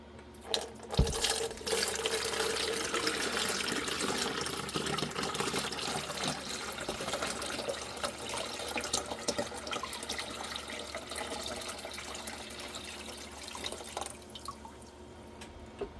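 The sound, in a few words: straining redbud juice through a strainer into a container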